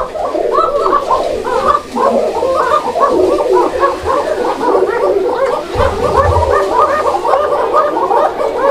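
Racer pigeons coo repeatedly and loudly up close, several birds overlapping in a steady rolling rhythm of throaty calls, with a brief low thump partway through.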